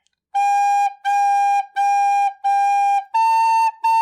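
Recorder notes from Hot Cross Buns measures 5 and 6, a steady run of six separated, held tones, four on one pitch stepping up to a higher one, bright and close with no talking.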